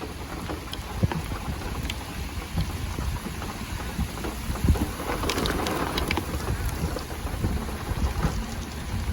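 Heavy rain from Tropical Storm Elsa pours down in a dense, continuous hiss, with scattered louder drops and splashes on surfaces and no voices.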